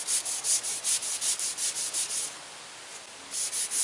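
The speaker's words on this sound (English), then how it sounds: "I'll feather edge this by hand, starting with 220 grit." Hand sanding of a canoe with 220 grit sandpaper, fingers kept flat: a steady, close rhythmic back-and-forth rasping with one brief pause, no voices.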